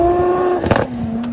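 A Lamborghini Aventador Ultimate engine drones loud and close with a steady low hum at a New Jersey cars and coffee meet, broken by a short crackling burst before settling into a slightly lower tone.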